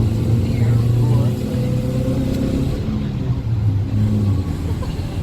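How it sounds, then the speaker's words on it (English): A car driving through city streets, a steady mid-range engine and road rumble heard from inside the vehicle, continuous and fairly loud for the whole stretch with a slight dip partway through. "So still we are driving through the city."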